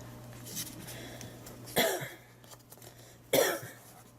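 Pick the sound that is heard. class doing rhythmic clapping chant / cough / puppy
cough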